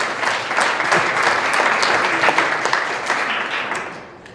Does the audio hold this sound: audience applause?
yes